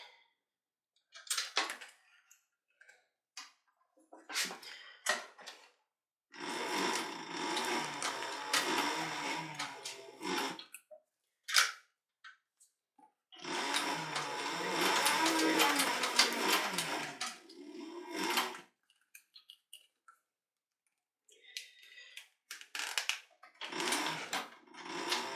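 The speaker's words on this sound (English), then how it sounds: "let's sew that in now" A sewing machine stitches a leather holster for a Single Action Army clone in several loud bursts of steady running, separated by pauses and small handling clicks, with no talking.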